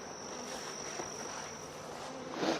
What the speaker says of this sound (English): And you got a bunch of bees up there, don't you?